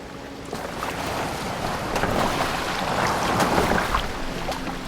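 A longship sails across open water in the video game Assassin's Creed Valhalla, with water rushing and splashing against the hull and wind blowing in a steady, swelling wash, fairly close, with no talking.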